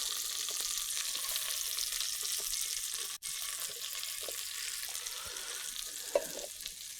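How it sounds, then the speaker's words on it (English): Pearl onions and mushrooms browning in a pan for coq au vin give a steady, dense sizzle that runs nearly unbroken throughout, with faint scrapes near the end and no talking. "So I'm browning my onions and mushrooms"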